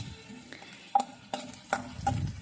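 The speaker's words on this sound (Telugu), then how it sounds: "వేగించిన తర్వాత కరివేపాకు వేస్తున్నాను." Curry leaves fry in hot oil with onions and tempering seeds, a steady close sizzle broken by several sharp metallic stirring clinks against the pan.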